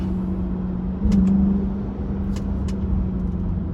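A Chrysler 300S in sport mode hums along at steady speed from inside the cabin, a low continuous engine and road drone with a slight swell in the middle and a few faint clicks.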